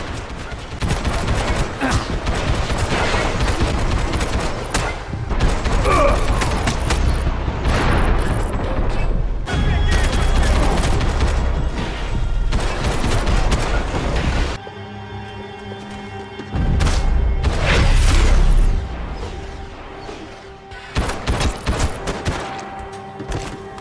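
Assault rifle fire in the video game Max Payne 3 crackles in dense, loud bursts, heavy sustained volleys with brief pauses between, mixed with booming impacts and game effects.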